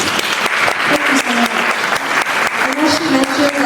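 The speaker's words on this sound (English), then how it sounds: "Please give a round of applause for Ms." An audience at a gala applauds, a dense, loud, steady clatter of many hands clapping close by, with faint voices mixed in.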